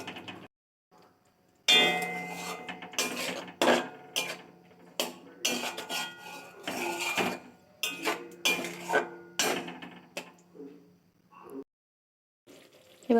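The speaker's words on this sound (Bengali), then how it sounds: "এতে আমি একটু হলুদ গুঁড়ো, লঙ্কা গুঁড়ো আর ধনে গুঁড়ো, জিরে গুঁড়ো দিয়ে একটুখানি নাড়াচাড়া করে নিচ্ছি ভালোভাবে।" Turmeric, chilli, coriander and cumin powders stirred in a pan, heard as irregular clattering scrapes and taps of a utensil against metal, loud and close, with short silent gaps between bursts.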